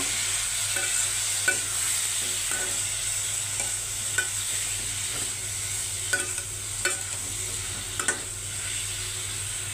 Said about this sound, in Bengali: এখন সুন্দর মতো কষিয়ে নেব